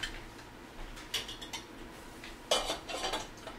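A utensil scrapes and clinks against a cooking pot while stirring marinara sauce, a few scattered metallic taps and scrapes close by in a quiet kitchen.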